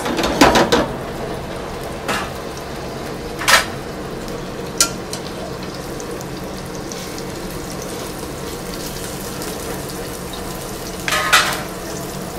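Meatballs browning in a frying pan for Italian spaghetti and meatballs, a soft continuous sizzle broken by occasional louder spatters and pan clatters, with no talk.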